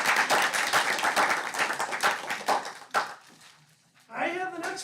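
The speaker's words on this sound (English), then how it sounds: "So just a quick round of applause for our board members." An audience at a school district board meeting claps for the board members, a dense burst of applause lasting about three seconds that fades out before a voice begins speaking.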